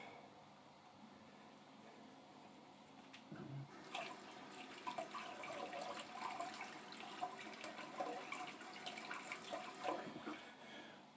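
Running water rinses a trumpet valve during cleaning, a steady splashing stream that starts around three seconds in and continues loud and close to the end.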